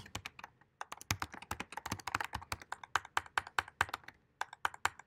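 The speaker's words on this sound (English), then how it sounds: "Sounds clickier. Yeah, it's a different uh, kind of keyboard." Close-up typing on a clicky computer keyboard, rapid sharp keystrokes in uneven bursts with brief pauses, crisp and distinct with no talking.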